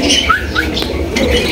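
A pair of small Lahori pigeons with deep red colouring coo steadily at close range, soft low murmuring calls running through the whole short stretch alongside faint chirps.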